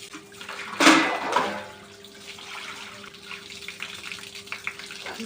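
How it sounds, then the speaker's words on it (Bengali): Running tap water at a kitchen sink during dishwashing, with a brief loud gush near the start that settles into a steady, moderate stream with small splashes. "গাইস, আমাদের খাওয়ার পর নিজেদের বাসন নিজেদের ধুতে হয়।"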